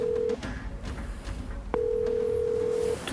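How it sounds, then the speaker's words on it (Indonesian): A mobile phone rings over an unanswered call, steady electronic ringback tones repeating twice with a gap between them, clear and close in a quiet indoor scene. "Nyambung sih, tapi nggak diangkat-angkat mah teleponnya Bas."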